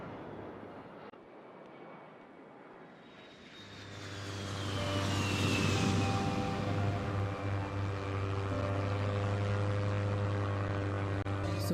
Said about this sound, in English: So we've got our aeroplane sounds here.